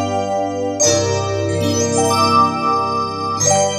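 A Yamaha P515 digital piano's Bright DX electric piano voice plays through its built-in speakers. Bell-like chords strike with sharp attacks, one near the start and another near the end, and sustain shimmering in between, clear and fairly loud, with no talk.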